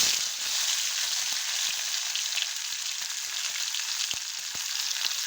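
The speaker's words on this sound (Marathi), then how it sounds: "त्याला तेल सुटेपर्यंत परतून घ्यायचं." A paste of onion, garlic and coconut sizzles steadily in hot oil in a kadhai, a continuous frying hiss with occasional soft taps and scrapes of stirring.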